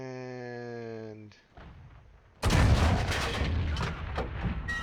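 In a tank video game, a steady harmonic engine-like tone cuts out before a loud cannon shot lands and sets off an ammo rack, followed by a rumbling blast and crackling debris.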